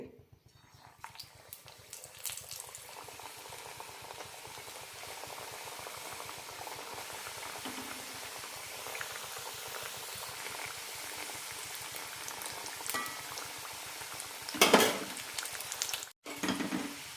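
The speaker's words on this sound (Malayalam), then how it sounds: "എണ്ണ നന്നായി ചൂടായിട്ട് വേണം ഇട്ട് കൊടുക്കാൻ" Punjabi samosas made from wheat flour deep-fry in hot oil, giving a continuous bubbling sizzle with fine crackles and a few louder spits and clatters near the end.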